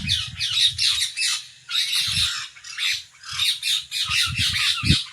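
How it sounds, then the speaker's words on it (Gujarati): Parrots squawk in a rapid, harsh series of loud nearby calls, the bursts broken by brief pauses, with rustling and low thumps underneath. The birds are outdoors around a rural home during the monsoon. "ના બધે પોપટ બોલે છે"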